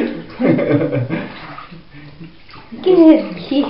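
A small girl splashing water in a bathtub, with sloshing bursts as she plays while a man chants and a voice chuckles over the splashes.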